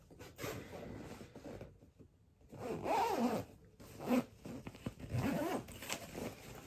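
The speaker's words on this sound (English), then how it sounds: "So I'm closing this packing cube up. We're gonna zip it up and keep it moving." A packing cube being zipped shut in several bursts of rasping zipper pulls, close and fairly quiet, with brief pauses between strokes and no talk.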